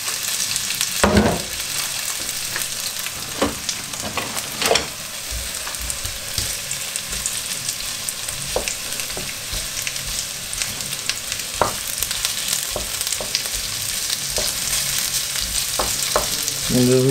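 Potatoes fry in a pan for a German shepherd's skillet with salami and peppers, giving a steady close sizzle broken by scattered clicks and scrapes as they are stirred, with no voices.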